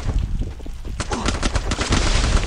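Gunfire in the shooter game Free Fire, with rapid automatic bursts of sharp, loud shots. A quieter stretch comes first, then a dense volley fires in quick succession.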